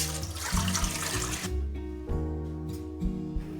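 Water runs steadily into a cooking pot for mango sharbat, a continuous splashing pour, close and moderately loud, with no voices.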